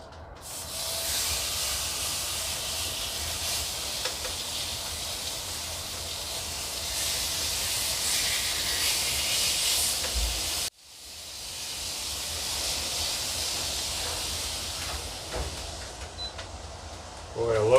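Loud, steady sizzling hiss of a ribeye steak searing in a very hot pan, continuous for the whole stretch with a brief break partway through.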